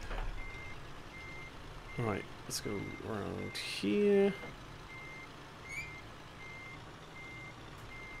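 A truck in Scania Truck Driving Simulator gives evenly spaced, high-pitched reversing beeps that run through the whole clip, with engine rumble and air-brake hiss underneath and someone talking over them.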